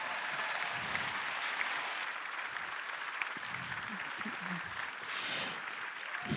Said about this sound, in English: give him another round of applause